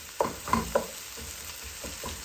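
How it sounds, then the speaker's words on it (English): Green chilies frying with okra in a pan, a steady low sizzle broken by several sharp stirring scrapes and clacks at irregular intervals, close and clear with no talk. "green chilies, 2 tablespoons, and fry that with it as well."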